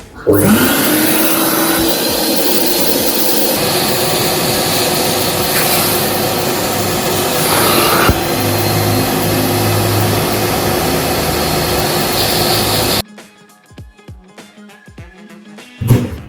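A Karcher Puzzi 10 spray-extraction vacuum runs loud and steady, sucking dirty water out of a sofa or carpet, then cuts off abruptly, leaving quiet clicks and handling noise.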